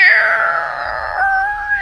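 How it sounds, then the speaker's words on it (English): Rusty iron gates screech slowly open in one long, loud, wavering whine that slides downward and then holds a thinner grinding tone. "It's the sound of rust clinking and cringing against itself."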